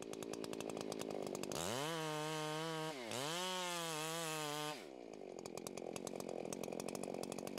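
A faller's chainsaw revs up and bites into a standing tree for the undercut, a loud close snarl that rises, dips briefly mid-cut and climbs again before dropping back to a rough idle.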